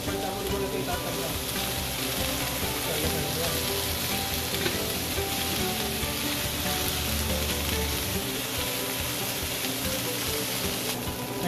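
Pork and chicken adobo sizzling in its sauce in a pan, a continuous dense frying crackle and bubbling, close and steady throughout.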